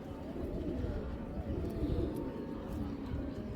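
Pigeons, including a hen, coo in a crowded loft of about 120 Indian and Chuina-type giribaj tumbler pigeons, a low, continuous murmur of soft cooing under a dull background rumble.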